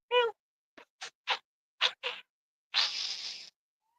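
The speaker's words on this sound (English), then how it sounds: "It's a cat." A cat meows once, followed by several short scratchy bursts and a longer hissy sound, fairly close, in an otherwise quiet space.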